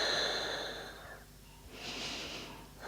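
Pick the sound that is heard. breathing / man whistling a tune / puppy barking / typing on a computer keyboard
breathing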